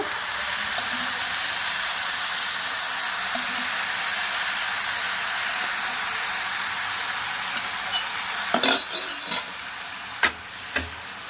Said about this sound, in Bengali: এবার যে বাদ বাকি চিনি শিরাটা আছে ওগুলোও দিয়ে দেব।